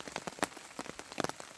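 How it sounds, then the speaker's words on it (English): Rain falls at a camp during a solo canoe trip, drumming as close, irregular patters of drops on a surface, soft overall and with no talk. "it has been raining since about 5:30"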